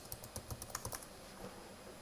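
Quiet rapid typing on a computer keyboard, a quick burst of light key clicks close by for about a second, then fading to faint scattered taps over low room hiss.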